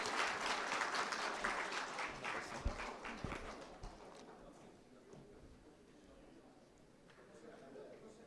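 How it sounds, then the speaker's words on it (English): Audience applause welcoming a woman onto the stage at a graduation ceremony, loud at first and gradually thinning into quieter scattered clapping, with a few sharp thumps and a murmur of voices underneath. "Please welcome her on stage with a huge round of applause."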